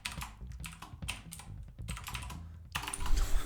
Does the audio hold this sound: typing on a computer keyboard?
yes